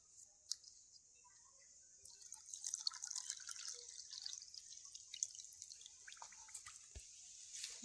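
Water pours into a bowl of semolina (suji) being prepared for a crisp potato snack, a steady close splashing trickle with scattered drips that grows fuller midway and runs on alone.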